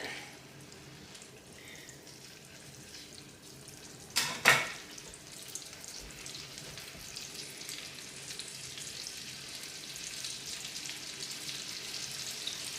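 Thin chicken pieces for chicken marsala fry in a pan on medium-high heat, giving a steady, close sizzle throughout with a sharp burst of spattering near the start and no talking.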